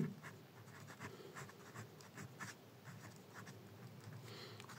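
A pen or marker writes numbers during a math lesson, faint close scratchy strokes in short irregular bursts over quiet room tone.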